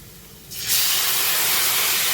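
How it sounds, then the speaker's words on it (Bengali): Chopped onions hit hot oil in a pan, with a quiet start that jumps into a loud, steady sizzling hiss that continues to the end. "কুচানো পেঁয়াজ দিয়ে লাল লাল করে ভেজে নিচ্ছি"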